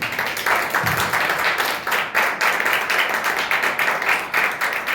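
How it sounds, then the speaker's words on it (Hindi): A church congregation applauds during a sermon with dense, continuous clapping that holds fairly loud for five seconds, sounding close and filling the room, with no one speaking over it. "ताली दीजिए अपने आप के।"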